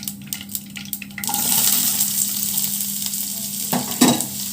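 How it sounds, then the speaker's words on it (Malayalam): Onion is dropped into coconut oil where mustard seeds have been popping, and a loud, steady sizzle with stirring follows, after a few sharp pops and clinks at the start. "കടുക് പൊട്ടി ഒരു സവാള ഇട്ട് കൊടുക്കാം."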